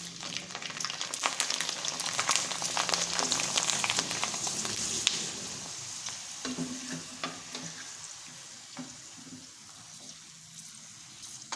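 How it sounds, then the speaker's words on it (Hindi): Rice flour papads fry in hot oil, a dense close sizzle and crackle that stays loud at first and then settles into a softer, patchier bubbling as the frying goes on. "तो इस तरह से हम पापड़ों को अच्छे से फ्राई कर लेना है।"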